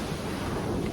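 Choppy sea at Bottle Beach on Koh Phangan, Thailand, a continuous loud wash of surf mixed with wind buffeting the microphone, no voices.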